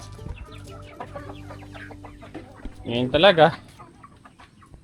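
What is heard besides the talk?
chickens clucking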